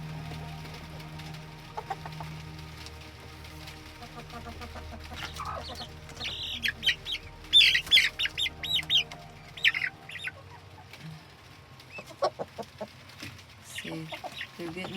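Roosting backyard chickens cluck and murmur softly in a coop at dusk, with scattered louder squawks rising midway among a steady low hum, and a person speaking briefly.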